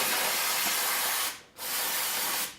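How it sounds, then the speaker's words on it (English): Two long bursts of aerosol brake cleaner spray hiss loudly and close up onto metal parts, separated by a short break. "use O'Reilly brake cleaner, any sort of brake cleaner or something, and just spray"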